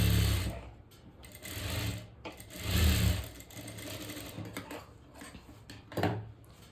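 A sewing machine stitches blouse cups in short bursts, its rapid mechanical clatter rising and falling with brief pauses between runs, close and moderately quiet.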